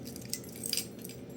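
A heavy metal multi-tool with screwdriver, bottle opener and scissors is handled, giving a few faint, light metallic clinks and jingles over about a second.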